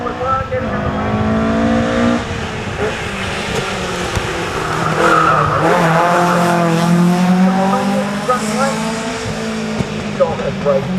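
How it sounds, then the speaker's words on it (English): A sprint race car in the Gemini class at the 2013 Leyburn Sprints spins its wheels on a smoky start, with loud tire squeal and a revving engine under continuous commentary. "quite the smoky start, plenty of wheel spin by Sean McLaren, getting out of the race"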